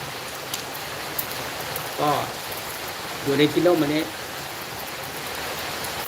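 Steady rain falls through a rainy day as a constant close hiss of drops, with brief talk in Thai heard twice over it.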